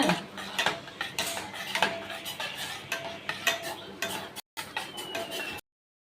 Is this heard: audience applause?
no